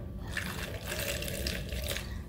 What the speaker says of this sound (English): get you some water. And I'm gonna just pour it into a container.